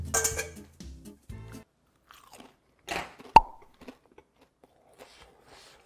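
Close crunchy bites and chewing of mala fried chicken, several sharp crunches in irregular bursts separated by quiet pauses.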